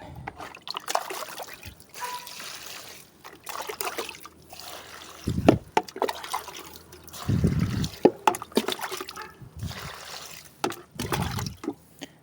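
Water trickles and splashes onto the dry soil of a potted grape plant in uneven close bursts, with brief pauses between pours.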